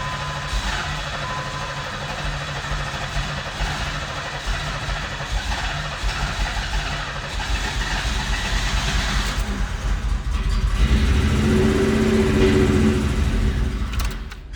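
A 1990 Pontiac 6000 SE AWD, unused for over 20 years, runs with a steady, rough engine drone that swells louder and deeper toward the end, continuous and close, with no talking.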